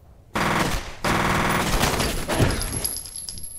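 Gunfire in the video game F.E.A.R., loud rapid automatic bursts that start abruptly, pause briefly, then resume as a dense continuous volley with clattering debris and no talking.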